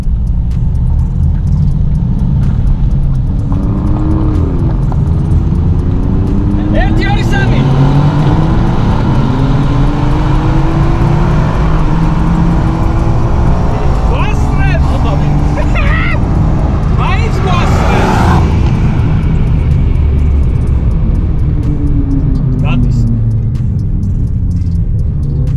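Drag race car engines rumble and roar continuously at close range in Rustavi, with a Mercedes competing, pitch sweeps rising and falling as vehicles accelerate past, while people talk over the steady loud engine noise.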